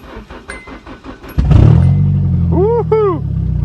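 A Nissan Stanza with a 2.4 liter four-cylinder engine cold starts: the starter cranks briefly, then the engine catches and settles into a loud, steady idle close by, after a few clicks and soft talk.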